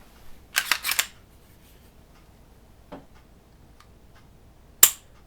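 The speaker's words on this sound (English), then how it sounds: "This straight from the factory trigger, its brake and reset, is amazing." The factory trigger of a Canik TP9SF Elite pistol gives crisp, close, sharp clicks: a quick cluster of three snaps near the start, a softer single click midway and one loud click near the end.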